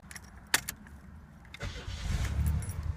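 A 1988 Buick LeSabre with the 3800 V6 and 187,000 miles cranks and fires up close by, a sharp click and key jangle giving way to a rising, steady engine rumble as it settles into a rough idle.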